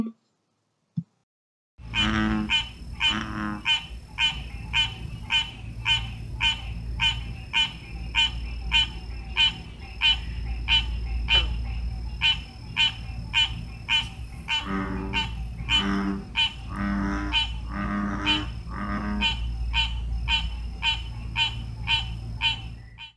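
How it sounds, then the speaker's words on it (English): A recording of frog calls from Tennessee, including the American bullfrog, carries a dense chorus of rapid repeated peeping calls in a steady rhythm, with low droning calls underneath, continuous and fairly loud after a brief silent start. "a few low calls of the American bullfrog, our biggest frog"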